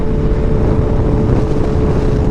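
A 2016 Kawasaki Ninja 1000 on a road ride, engine droning steadily and loudly up close under heavy wind rush, with no voices.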